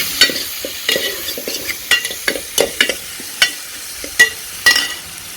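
Onions and tomatoes sizzling in a pan over a village cooking fire, stirred with repeated sharp scraping strokes at an irregular rhythm above a soft, steady fry.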